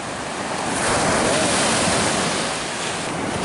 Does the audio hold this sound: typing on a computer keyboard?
no